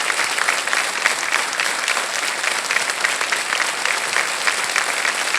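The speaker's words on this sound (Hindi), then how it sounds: "बस बस तालियां बजते रहे रक्षिंदा जी के लिए।" A studio audience on the game show Kaun Banega Crorepati claps loudly and continuously, a dense even wash of applause from start to finish with no voices over it.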